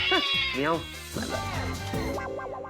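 Several whiny, rising and falling meows follow one another quickly, loud and close, with a busy backdrop behind them.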